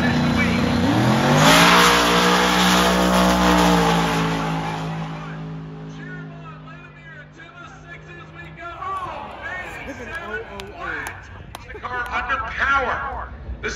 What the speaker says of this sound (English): This is a twin turbocharged LS swapped 1964 Triumph Spitfire.